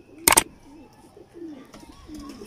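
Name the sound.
pigeon cooing, old Kasuri pigeon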